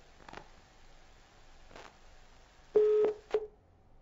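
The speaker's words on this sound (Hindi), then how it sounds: "आपका फोन डिस्कनेक्ट हो गया" Telephone tones as a phone call disconnects: a few faint short blips, then a loud steady tone of about a third of a second followed by a brief second beep, alone with no talk.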